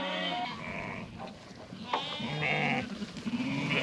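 Larger single lambs bleating repeatedly at weaning on a sheep farm, several overlapping calls close by, some drawn out, over steady flock noise.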